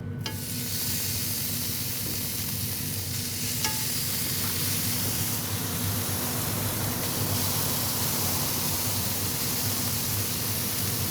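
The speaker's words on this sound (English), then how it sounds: "we're just going to sear up our meat" Beef tongue searing on a cast iron griddle, a loud, dense and continuous sizzle that holds steady from start to finish with no talk.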